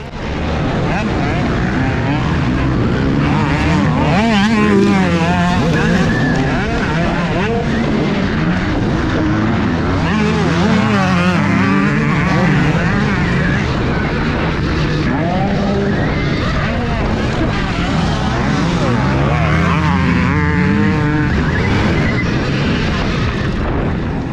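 Supercross dirt bikes racing around a track at Marshfield, engines revving and shifting continuously and loudly up close with rising and falling pitch, no talking.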